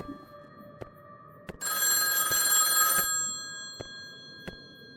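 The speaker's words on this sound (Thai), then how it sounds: "มีโทรศัพท์ครับ ด้านนอกครับ" A telephone rings in a horror video game about a night-shift security guard, one loud burst of bright ringing lasting over a second, with faint sharp ticks around it.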